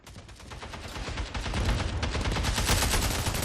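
Akimbo legendary weapon firing in the Splitgate 2 video game: a loud, dense, continuous burst of rapid gunfire that builds slightly in intensity across the clip.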